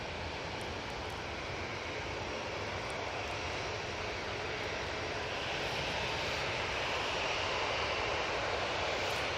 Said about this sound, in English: We have the Etihad coming out.